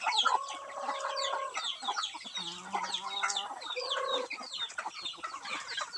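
Palawan native chickens, hens and a darag-type rooster among them, cluck and call steadily in a henhouse, a busy overlapping chorus of short clucks and a few longer crowing-like calls, fairly close with no talk.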